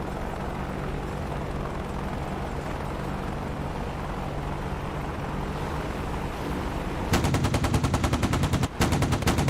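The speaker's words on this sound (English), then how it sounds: "Very close shots, took out the tail." A rapid burst of aircraft gunfire in a combat flight video game, dense and loud, cutting in after a steady low engine or rotor drone and briefly dropping out before resuming.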